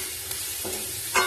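Bori lentil dumplings frying in oil give a soft, steady sizzle, with a couple of brief stirring scrapes near the end; close, fairly quiet, no talk.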